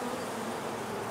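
A honeybee buzzes steadily around a beekeeper at a hive in Pine City, a continuous close, loud drone with no pauses and no talk.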